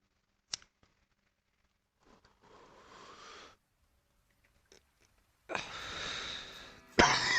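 Coughs: one sharp short cough near the start, then a drawn-out breathy spell, and a harsher, louder coughing burst at the end, each close and separated by silence.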